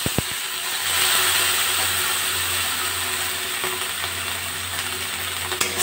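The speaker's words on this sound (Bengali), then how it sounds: "উচ্ছে আর বেগুনটা অনেকটাই ভাজা ভাজা হয়ে গেছে, আমি এবার এর মধ্যে একটু জল দিয়ে দেবো।" Bitter gourd and eggplant fry in a pan over a high gas flame, a loud, steady sizzle with a faint hum underneath and a few brisk clicks and scrapes at the edges.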